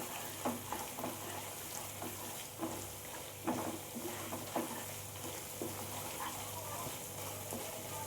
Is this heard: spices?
yes